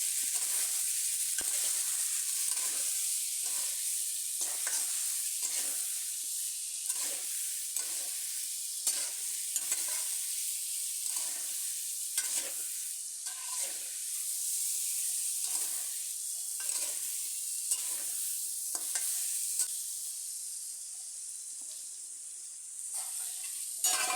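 Cauliflower sizzling in hot oil with turmeric and salt, a spatula scraping and stirring the pan in steady repeated strokes over a continuous bright fry hiss, tapering slightly near the end.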